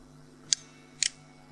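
Two crisp computer mouse clicks, about half a second apart, sharp and close, the second one doubled, while a PC running Windows 10 clears disk space, over a faint steady electronic hum.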